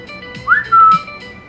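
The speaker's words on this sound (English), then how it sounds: "Oh, shit. I just whistled." A person whistles a short, loud, close-up tune: a rising sweep followed by a steady held note over a faint background hum.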